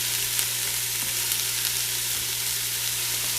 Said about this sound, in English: I will saute this for a few minutes until it's lightly brown